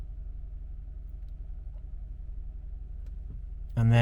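A Jaguar S-Type 3.0 engine idles during rear brake servicing, giving a steady low, even rumble that stays constant until a sudden louder tonal burst near the end.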